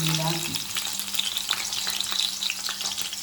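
Thinly sliced onions and green chillies fry in hot oil for coconut milk bagara rice, giving a steady, close, crackling sizzle that continues without pause and with no voices.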